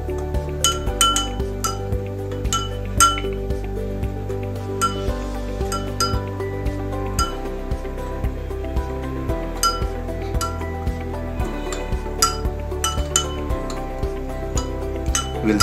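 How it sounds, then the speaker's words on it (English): A spoon stirring salt into a glass of water, clinking steadily and rapidly against the glass sides in a continuous rhythm, close and fairly loud. "We'll stir it till the salt fully dissolves."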